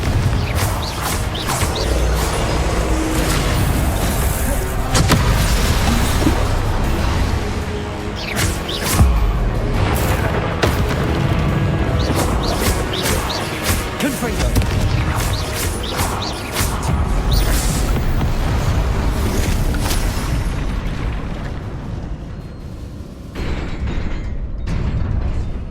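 Repeated Confringo blasting spells fired in the video game Hogwarts Legacy during combat make a dense barrage of loud explosive bursts, crashes and cracks that continues with little pause. A voice calls out spells amid the chaos.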